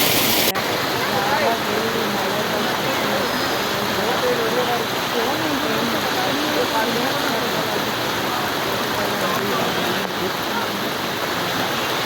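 Heavy rain falling at Kedarnath makes a dense, steady roaring hiss that stays constant and loud from start to finish, with no break.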